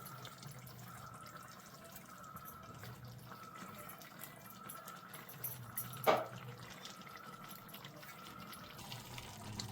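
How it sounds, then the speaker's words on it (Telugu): Water pours faintly and steadily into a pot of chole masala curry with mashed chickpeas, with a soft trickling flow and one brief splash partway through. "నేను మిగతా నీళ్ళు కూడా వేసేసుకుంటున్నానండి"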